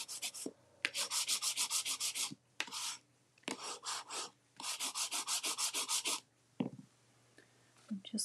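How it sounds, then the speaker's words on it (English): Paper is burnished with quick rhythmic rubbing strokes in several close bursts while setting up an ink painting of a rose, with quiet pauses and brief handling noises between. "Give that a quick burnish."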